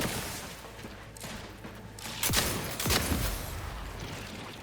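Gunfire in the video game The Outer Worlds 2, a volley of sharp shots bursting out around the middle, with two loud blasts ringing over a steady rumbling game backdrop.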